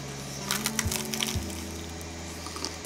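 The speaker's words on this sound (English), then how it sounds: "gotta give it a taste test." Crunchy bites into crispy cheesy garlic bread made in a Ninja Foodi, a few sharp crackling crunches close to the mic, with no talking.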